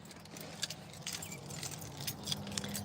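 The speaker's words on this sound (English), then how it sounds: "I dropped the keys over here on the seat." Car keys jangle and clink on a vehicle seat, a few bright metallic rattles close by over a steady low engine or cabin hum.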